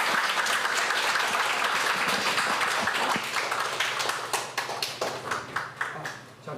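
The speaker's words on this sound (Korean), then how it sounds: "박수로 마치겠습니다." Lecture audience applauding at the end of an academy session on Korean history: steady, full clapping from a roomful of listeners that gradually loosens into distinct, separate claps near the end.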